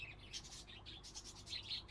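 Several small birds in a pet shop within the Exotica Petshop Simulator game chirp and tweet in quick, bright bursts, fairly faint and alone, with short calls overlapping in an irregular rhythm.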